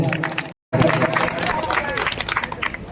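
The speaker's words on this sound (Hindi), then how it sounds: "तो जोरदार ताली इनके पिताजी के लिए भी बजा दें।" Audience applause and crowd noise at a felicitation event for successful matriculation and intermediate students in Barhi panchayat, loud and sustained with a brief silent gap near the start.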